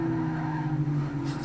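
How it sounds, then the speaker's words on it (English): Race car tires skidding under late braking in a racing game, a loud sustained squeal with a steady engine drone beneath, lasting about a second and a half. "Stunt brakes very late, leaving room for Ansera, and it's"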